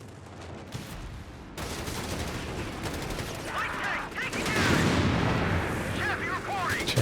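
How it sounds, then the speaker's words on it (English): Nebelwerfer rocket artillery fires in a Company of Heroes 3 2v2 battle, a dense, rumbling barrage of launches and blasts swelling and fading amid other combat noise, with a voice talking over it. "I cannot tell where this Nebelwerfer is firing from."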